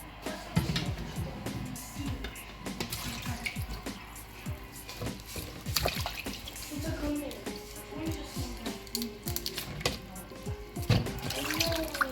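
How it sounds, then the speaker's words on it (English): Dried fish is washed in water during preparation of Nigerian egusi soup, with continuous faint splashing, dripping and sloshing close by. "I'm going to wash the dry fish now while we are waiting"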